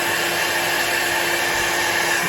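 A steady, loud rush of blown air aimed at wet alcohol ink to push it back and spread it, a constant hiss with a faint motor whine, unbroken and close throughout.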